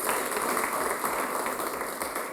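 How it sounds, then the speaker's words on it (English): Steady round of applause from a university debate audience in Kenya, a dense continuous wash of many hands clapping at even loudness throughout, with no voices over it. "Let's give her a round of applause."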